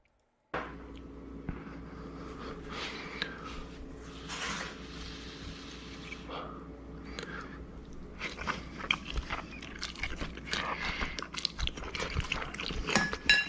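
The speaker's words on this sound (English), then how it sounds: "I don't want to hear him fucking chew." A person chewing food close up, with repeated wet crunching and smacking bites in an irregular rhythm over a quiet room.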